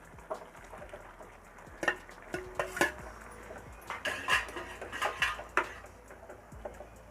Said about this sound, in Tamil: அந்த உருளைக்கிழங்கு இதுடன் சேர்த்துக்கலாங்க